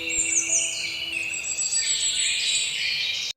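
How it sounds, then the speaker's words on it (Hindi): Birds chirp and twitter in a quiet village in the morning, with bright, rapid calls that overlap and come from a moderate distance over a soft, steady background hush. "चिड़ियों की चहचहाहट"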